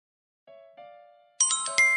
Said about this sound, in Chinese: 铃声一响，演出就开始了。